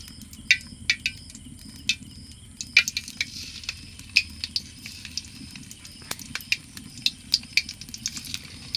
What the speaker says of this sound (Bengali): এখন এটা গরম তেলে ভাজি করে নেব মুসমুসে করে